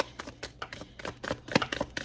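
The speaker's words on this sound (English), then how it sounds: "We're going to put them back in and keep shuffling." Tarot cards being shuffled by hand, a run of close papery riffles and slaps in uneven bursts with one sharper snap near the end, no talking.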